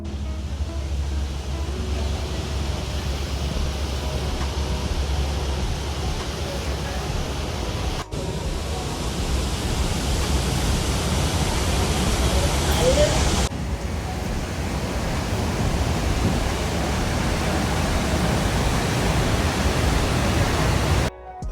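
Steady, dense roar of Niagara Falls heard from a viewpoint near the water, a broad constant rushing wash that holds level for over twenty seconds with only brief cuts, no voices over it.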